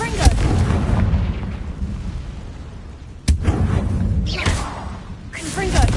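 A Confringo blasting curse from Hogwarts Legacy bursts in a loud explosive whoosh, with a second sharp blast midway and more rumbling fire toward the end, dense and continuous with game effects.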